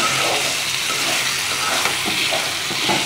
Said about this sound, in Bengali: এবার আমি ভালোভাবে তেলের সঙ্গে মিশিয়ে নেব